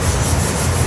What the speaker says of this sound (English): we got to hand sand all of this now